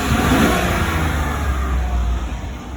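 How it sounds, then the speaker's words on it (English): A 2018 Chevrolet Silverado pickup's engine revs up close by, a throaty rising roar that holds for a few seconds and then eases slightly, with no talking. "I kind of put it down here and I give her a bit of gas"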